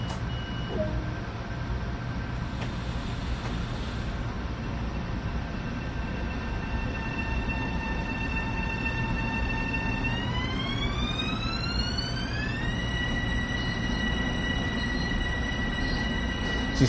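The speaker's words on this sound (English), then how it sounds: "You can hear the wheels running over the points and what have you" Long Island Rail Road train running in a Train Sim World cab, its wheels passing over points amid a steady mechanical rumble, with a whining motor tone that holds and then climbs in pitch partway through.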